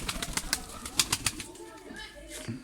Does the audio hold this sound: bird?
yes